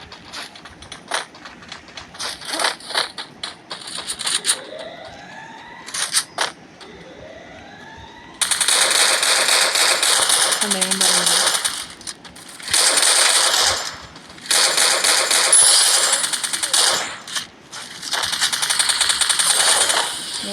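M14 rifle shots in a video game, first sparse single cracks, then long loud bursts of rapid fire broken by short pauses, with distant game effects between them.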